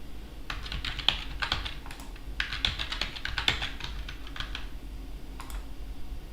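Typing on a computer keyboard: rapid bursts of close, crisp key clicks in short runs with brief pauses between them, alone against a faint room hum.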